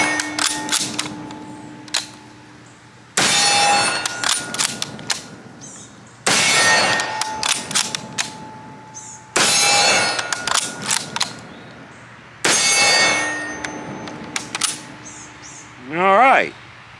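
An old, dirty M1891 Mosin Nagant bolt-action rifle fires five rounds on a range, each sharp crack about three seconds apart, with bolt-cycling clicks between shots and a voice briefly heard near the end.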